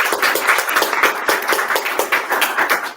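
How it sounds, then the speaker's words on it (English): A small audience applauds after a talk at a networking event, with close, distinct hand claps forming a lively, uneven rhythm that holds for a few seconds. "let's give her another round of applause"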